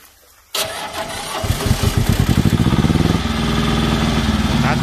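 A Mitsubishi diesel eight-wheel dumper truck engine cranks with a rapid rhythmic chugging, catches, and settles into a steady, loud, close idle.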